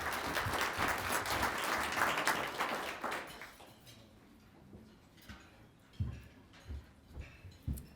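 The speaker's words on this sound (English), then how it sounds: "Let's give them all another round of applause." Luncheon audience applauds loudly for about three seconds, then the clapping dies away into scattered claps and room noise.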